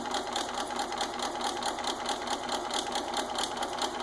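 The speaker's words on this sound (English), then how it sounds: "So I'm just going to sew straight down the side." A sewing machine stitches a straight seam down the side of paper at a moderate speed, its needle running as a steady, fast, even whirring clatter that holds at a constant level throughout.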